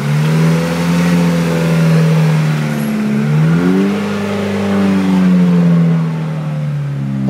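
A 1998 Dodge Neon engine running and revving after a repair, loud and close, its pitch rising and falling through several rev swells as the throttle is held, with no talk over it.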